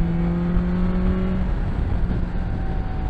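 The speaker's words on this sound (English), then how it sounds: "Acceleration in top gear at these revs" A 2021 BMW S1000XR motorcycle accelerates in top gear, its engine holding a steady droning tone with wind noise rushing loudly around it, close and continuous.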